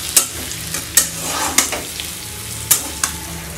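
Vegetable bhujia frying in a pan while being stirred, with a steady sizzle and a handful of sharp scraping stir strokes close up, and no talking.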